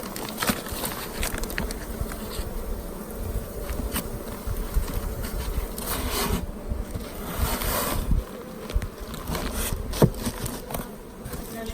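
Honeybee swarms in small hives and nucleus boxes, with a continuous dense buzzing close by and occasional knocks and rubbing sounds.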